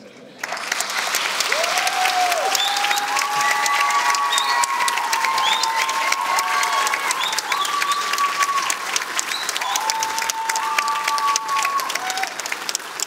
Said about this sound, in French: On les applaudit encore bien fort, le groupe numéro 22, avec Camille, Sylvain, Marie et Benjamin